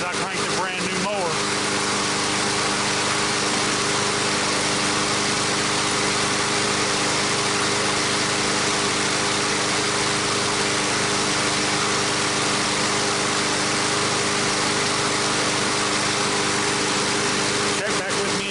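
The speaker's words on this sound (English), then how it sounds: "Since I cranked a brand new mower." A brand-new MTD mower with a Briggs and Stratton engine, freshly assembled and burning off oil, runs in a loud, unbroken drone with a steady buzzing hum from start to finish.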